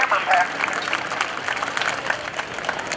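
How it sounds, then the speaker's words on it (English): At a NAS Oceana airshow, the crowd gives a round of applause for pilot Bill Leff, scattered outdoor clapping under a loud public-address voice. "Ladies and gentlemen, a nice round of applause for Bill Leff."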